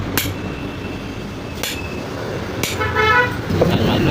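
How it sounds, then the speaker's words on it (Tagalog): Roadside traffic right beside the road: a steady wash of passing vehicles with a short horn toot and a brief metallic clink, close and fairly loud throughout. "tabi tayo ng kalsada, medyo maingay"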